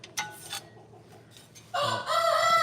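A rooster crows loudly and close by, a long harmonic call that takes up the final second after quieter clucking and rustling.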